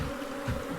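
Africanized honey bees buzz in an open hive, a steady dense drone lasting under a second with no talking.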